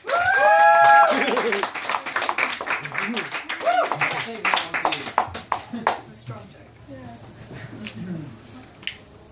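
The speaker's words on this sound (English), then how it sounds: "Big round of applause, please," An audience at a Halloween comedy night at Frogs and Jays claps and applauds for Jon Madge, a dense burst of clapping that thins out and fades, heard under a host's voice at the start.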